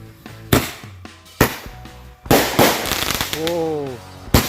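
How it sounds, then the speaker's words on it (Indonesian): A petasan firecracker goes off in several sharp, loud bangs at irregular intervals, with a voice heard between the blasts. "Ini dia merconnya, kita coba di sini guys"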